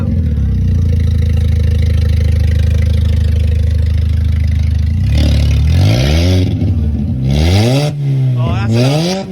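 Supercharged Mini Cooper S R53 engine running with no exhaust fitted, loud and raw: a steady harsh idle, then several sharp revs that rise and fall in quick succession, close up, with voices talking briefly over it.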